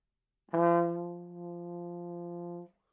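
One trombone note that begins with a hard, loud accent, then drops back and holds at an even, softer level until it cuts off.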